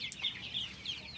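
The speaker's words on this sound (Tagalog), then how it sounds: "Mga pilay na manok nandito." Chickens on a Vietnam chicken farm, in a pen where lame, weaker birds are kept apart, give a few soft, faint clucks in quick succession against quiet background noise.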